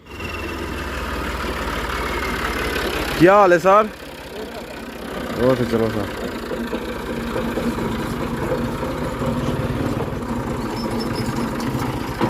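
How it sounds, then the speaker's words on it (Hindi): A tractor engine idles steadily in a farm field, a constant low mechanical rumble that briefly revs up in a couple of quick bursts; men exchange greetings over it. "ट्रैक्टर जो है वो आ चुका है हमारा"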